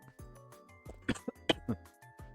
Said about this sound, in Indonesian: Mohon maaf, agak batuk nih